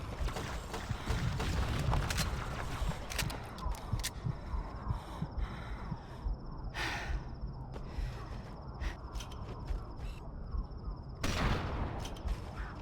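A bolt-action rifle fires in a Halo game amid a busy firefight, with scattered sharp gunshot cracks, distant bursts and mechanical clicks at a moderate, uneven pace.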